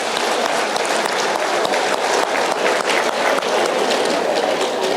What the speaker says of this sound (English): I want you to clap hands for the next person next to you.